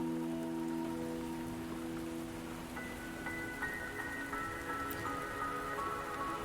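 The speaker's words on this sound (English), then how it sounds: "The rain won't last much longer." Steady rain falls in a scene from the video game Wuthering Waves, a continuous soft patter heard alongside sustained musical tones, with no voices.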